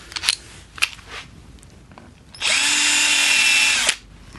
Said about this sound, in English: Now I am going to use one of these drill bits that self-centers.